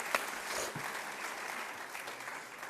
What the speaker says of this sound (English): So please help me applaud Dr. Worsham for working on our behalf